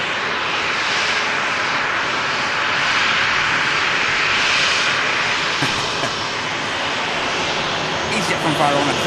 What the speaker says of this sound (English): EasyJet from Faro on a 3-mile final